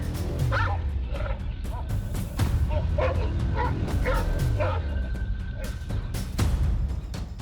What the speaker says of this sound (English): The encirclement of the pack of dogs tightens more and more.